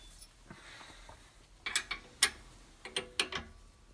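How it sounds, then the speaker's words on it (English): Wrenches tighten a chuck into a Beal chuck on a lathe during ring making: a few sharp metallic clicks and ratcheting taps arrive in small bursts, close by and against quiet background. "I'll use my wrenches to hold my chuck into the Beal chuck"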